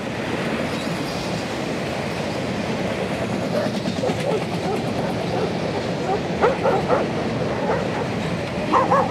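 A train rumbles past with a steady low roar and rhythmic clatter of wheels, while a dog barks a few times nearby.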